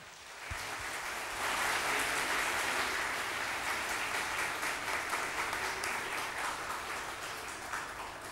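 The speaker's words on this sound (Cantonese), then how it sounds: "咁不如我哋咧都用掌聲去歡迎我哋坐喺我哋身邊嘅朋友嚟" Sustained audience applause fills a church anniversary thanksgiving gathering, a dense wash of many hands clapping steadily for several seconds at even loudness, with no talk over it.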